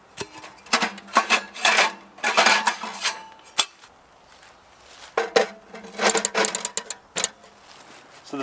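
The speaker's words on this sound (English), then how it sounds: "if I set this stove up here, I'll actually demonstrate this one for you" A metal folding camping oven stove being unfolded and set up, with clanking, rattling and clicking metal panels in bursts, close and loud, alone without talk.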